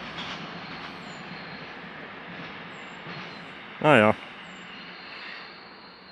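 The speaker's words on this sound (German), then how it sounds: "Man hört hier die ganze Zeit die Züge." Trains on the Brenner railway line near Matrei rumble steadily in the distance across a foggy, snowy landscape, a low continuous roar, with one brief spoken word over it.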